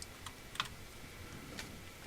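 A computer keyboard being typed on while setting up Home Assistant software, heard as a few sparse, quiet keystrokes and clicks spread over a faint, steady room background.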